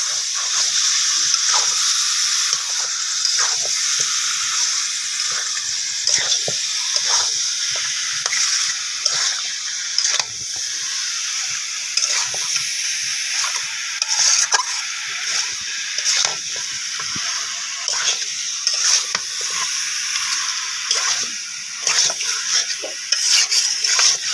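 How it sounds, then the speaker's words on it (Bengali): Country chicken meat being sautéed and stirred into spices for a thin curry, with a steady close sizzle and repeated scraping stirs of a utensil against the pot throughout, no talking. "এবার হচ্ছে গোশটা দিয়ে দেবো, কষাচ্ছি।"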